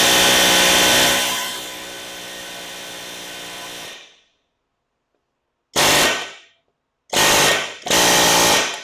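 Stuck engine pistons are struck hard to shock them loose: one long, loud rattling burst, then silence, then three shorter harsh bursts in quick succession.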